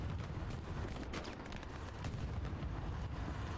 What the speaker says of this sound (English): Artillery's coming down strong.